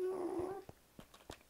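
A dog in the video game Minecraft growls low and steadily for about half a second, then gives several short, soft yips and whimpers at a moderate distance, with no talking.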